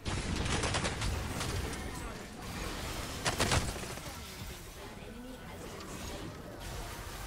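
Game gunshots in League of Legends, a cluster of rapid cracking shots early on and another burst midway, set against a dense, noisy game mix with voices talking throughout.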